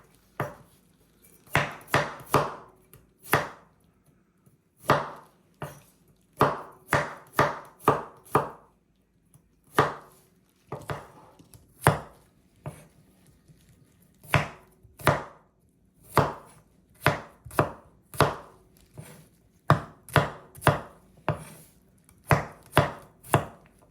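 Fresh seasonal garlic sliced with a knife on a cutting board, heard as quick bursts of crisp chopping strokes separated by short pauses, close and clear with no talking.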